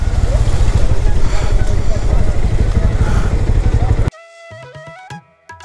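A motorcycle engine rumbles loudly and steadily in a rain-soaked traffic jam, with wind buffeting throughout, then cuts abruptly to a quieter tonal passage near the end.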